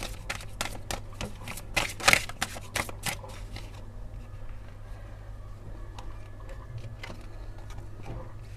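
Tarot cards are shuffled and drawn from the deck, a rapid run of crisp riffling clicks and flutters that peaks and then thins into sparse soft taps and slides, close and fairly quiet, with no talk.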